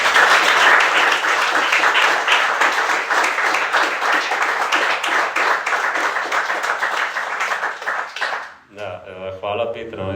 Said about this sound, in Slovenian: velik aplavz za to